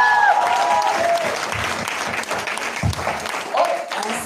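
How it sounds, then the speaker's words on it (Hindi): An audience at a motivational success talk applauds loudly in a dense, continuous burst of clapping that eases slightly toward the end, with a voice speaking over part of it. "और एक जोरदार ताली होनी चाहिए"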